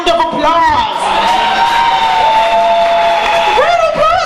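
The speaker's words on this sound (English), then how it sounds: "By round of applause, who here has never been to a slam before?" An audience at a poetry slam cheers and whoops loudly, a dense crowd roar with rising and falling shouted voices and applause filling the whole stretch.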